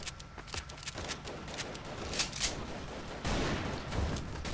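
Video game gunfire crackles in rapid bursts of sharp shots, fairly faint, with a denser stretch of firing toward the end.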